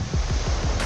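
Indian Ocean waves wash ashore on the beach at Mombasa. The surf makes a close, continuous wash with soft rhythmic surges, and wind noise buffets the microphone.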